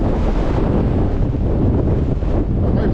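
Strong wind buffets the microphone on an exposed hillside in Snowdonia, a loud, continuous roaring rumble that stays dense and unbroken, with no voices.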